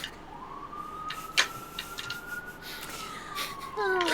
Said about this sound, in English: Are those sirens?